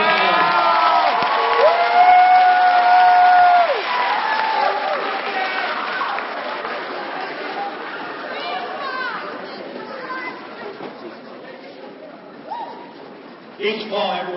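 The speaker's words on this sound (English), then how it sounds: "Let's give Mr. Phillippe a round of applause." At a middle school end-of-quarter celebration, students and audience clap and cheer loudly, with shouts and whoops, then the applause tapers into general crowd chatter with a brief swell near the end.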